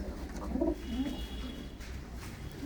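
Soft pigeon coos, a few low throaty calls close by over a quiet background hum, no talking.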